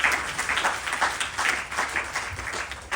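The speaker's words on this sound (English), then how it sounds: "Please clap for them." Crowd clapping at an evening Ganesh Chaturthi yajna gathering, a continuous moderate round of applause with a rippling texture throughout.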